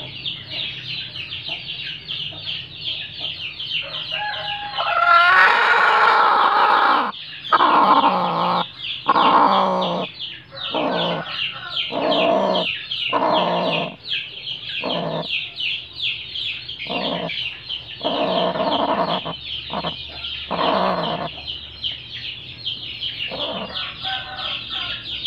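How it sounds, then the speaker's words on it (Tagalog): A brooding mother hen clucks steadily in a farm setting, with repeated soft clucks and calls continuing throughout, close and fairly loud, alongside other chicken sounds. "Naglilim na yung inahin natin."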